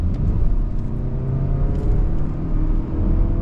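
Engine of a 2026 Mazda 3 GX pulling hard under full throttle, a steady loud low rumble and whir with faint rising harmonics, heard from inside the cabin with no talking.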